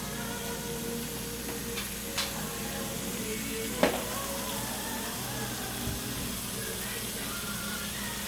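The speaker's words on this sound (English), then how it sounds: "start sauteing my meat, which is going to be the 2 pounds of ground beef" Two pounds of ground beef sauté in a pan for a lasagna, giving a steady broadband sizzle and hiss throughout, with a few faint clinks and scrapes of the utensil breaking up the even texture.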